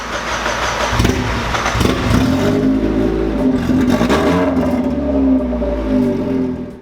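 A car engine on a dyno running with open headers, loud and close, rising through a sustained rev with harmonic drone, then dropping off at the end; no talk over it.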